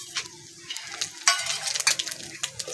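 Whole spices sizzle in hot oil for a mutton curry: a bay leaf, a dried chilli, whole garam masala, cumin seeds and a little sugar. The crackling is close and uneven, with light clinks of a stirring utensil.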